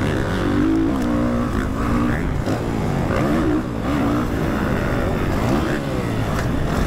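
A two-stroke or four-stroke enduro dirt bike engine is throttled up on an off-road sand track, holding a loud, close, continuous roar with rising and falling pitch swings as it revs.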